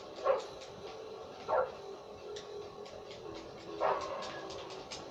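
A dog barks in the Bully (Canis Canem Edit) video game, three short separate barks at a moderate distance over a quiet ticking background.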